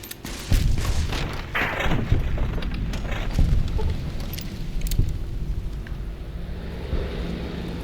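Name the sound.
bombs exploding in Fallout New Vegas video game battle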